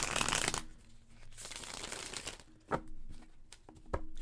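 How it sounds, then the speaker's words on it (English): A deck of cards shuffled by hand, several riffles and crisp flutters with sharp snaps at the end of each pass, close and fairly quiet with no talking. "I'm going to shuffle the deck now"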